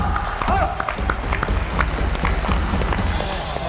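An audience at a youth wrestling training event claps in a loose, uneven burst of applause, mixed with shuffling movement and a voice calling out in the room.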